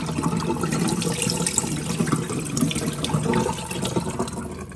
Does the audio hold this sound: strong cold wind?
no